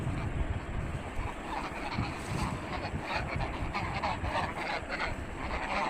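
Domestic geese at a Bangladeshi village honk and call over a dense, rustling outdoor background, their nasal cries recurring irregularly at moderate distance through the whole stretch.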